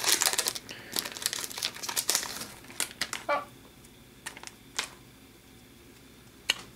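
A foil hockey card pack wrapper crinkles loudly as it is torn open, dense crackling at first, then thinning into scattered isolated crinkles and snaps with quiet gaps between them.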